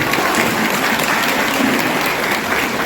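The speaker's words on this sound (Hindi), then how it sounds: "ताली बजा लीजिए।" Steady, dense applause from an audience at a yoga group event honouring a guru, loud and continuous throughout with no talk over it.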